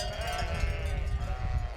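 Flock of sheep bleating continuously, several overlapping calls close by, with low rumbling ambient noise underneath and no talk.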